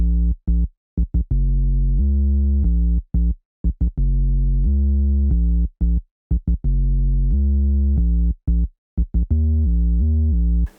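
Muted deep sub bass line from a Logic stock sound, loud sustained low notes in a bouncy rhythm with short gaps between phrases, heard alone.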